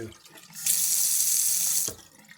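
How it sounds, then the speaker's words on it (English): Hot water gushes from a newly installed sink faucet, a steady bright hiss that starts abruptly, runs for over a second, then cuts off sharply, heard alone in a quiet room. "I have my water, and that's my water, my hot water."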